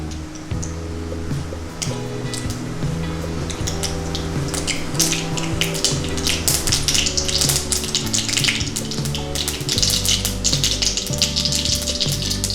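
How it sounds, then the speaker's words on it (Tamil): Mustard seeds splutter in hot oil in a pan while making vendakkai poriyal (lady's finger fry), a loud, dense, continuous crackling and popping sizzle over a low steady hum. "கொஞ்சம் எண்ணெய் காஞ்சிச்சு. நம்ம கடுகு போட்டுடலாம்."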